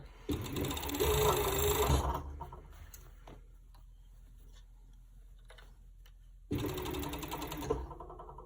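A sewing machine stitches a collar onto a kids' sweatshirt in two loud, rapid whirring bursts, one at the start and one near the end, separated by a quiet pause with faint handling.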